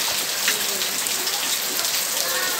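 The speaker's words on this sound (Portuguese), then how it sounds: "Chuva, gente, mais chuva aqui na cidade de Monte Alegre." Heavy rain pours over a town in Monte Alegre on a Sunday morning, a dense, steady hiss of drops hitting surfaces that holds constant throughout without any voices.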